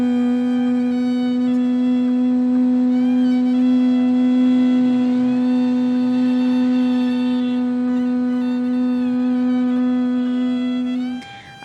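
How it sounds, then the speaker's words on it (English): Sustained nasal humming during pranayama yoga breathing, with ears closed and jaws kept apart: a single steady, loud, unbroken hum held for about eleven seconds, stopping abruptly at the end. "we'll start doing hum sound like this"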